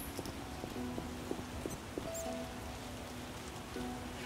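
Steady rain hisses down in the video game The Witcher as a constant wash of noise, with faint clip-clop taps and soft background tones mixed in and no talking.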